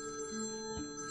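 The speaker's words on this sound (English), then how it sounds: "the home phone started to ring" A home telephone rings with a steady electronic tone, fairly close and loud, heard alone without voices.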